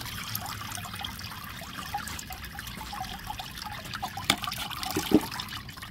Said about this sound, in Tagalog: Lalagyan pa uli ng tubig.